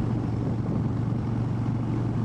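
Harley-Davidson Sportster 1200 Custom engine holding a steady high-RPM drone at highway speed, a continuous low rumble with wind roar, loud and unbroken throughout.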